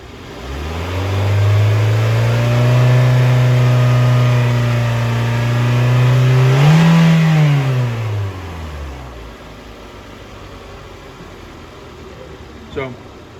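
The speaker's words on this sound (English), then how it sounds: "we're going to have my partner Kyle, we're going to have him rev the engine" A car engine revved during a camshaft and crankshaft position sensor lab test, rising from idle into a sustained loud drone, climbing in pitch before dropping back and fading to a low idle, close to the microphone.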